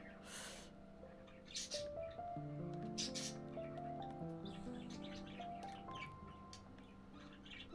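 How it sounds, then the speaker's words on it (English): Two pet budgies chirp and warble indoors in a continuous string of quiet, bright whistled notes and chatter, with soft rustling and faint breathy sounds from a person nearby. "I have 2 pet budgies."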